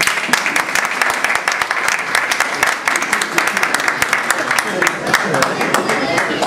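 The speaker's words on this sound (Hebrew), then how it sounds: "תנו כפיים לרב רפאל" Audience at a Hanukkah alumni gathering applauding Rabbi Rafael, dense, lively clapping from a large crowd, loud and sustained without a break.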